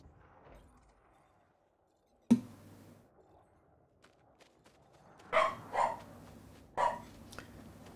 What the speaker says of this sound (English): See, there's my dog woofing.